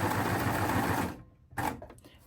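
An overlocker stitches a three-thread wide decorative edge, whirring loud and close for about a second before stopping, followed by a short second burst and some handling noise.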